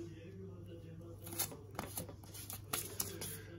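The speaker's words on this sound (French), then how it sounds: "On va lui mettre du scotch." Yellow adhesive tape pulled and pressed onto a threshold strip, heard as a few short tearing and crackling rustles over a steady low room hum, fairly close.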